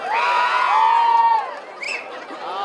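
Crowd at a jaripeo rodeo, La Jabonera 2023, raising a loud sustained cheer and whoops, dropping briefly and then swelling again with high shouts.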